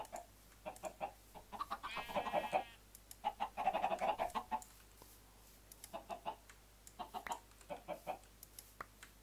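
Chickens in the Minecraft Sky Factory 3 video game cluck in short repeated bursts with a few longer squawks, fairly quiet game audio over a low steady hum, no talking.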